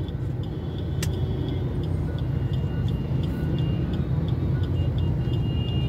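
A traffic jam on a bridge in Bhiwandi, near Mumbai, gives a dense, steady rumble of idling and crawling engines close by, with faint high whines and a sharp click, and no talking.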